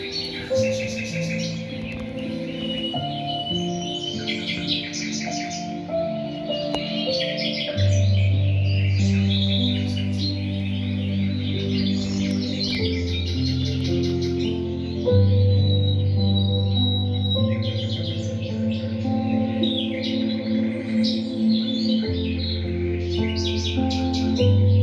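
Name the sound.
birds chirping in a video played on a projector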